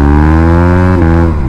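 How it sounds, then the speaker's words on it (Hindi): KTM motorcycle with a loud exhaust revs close by, a strong, steady droning engine note that briefly shifts and eases near the end. "तो गाइस अभी इसकी साउंड देखो कैसी आ रही है, उसकी मतलब सुपर बाइक जैसी साउंड आती है"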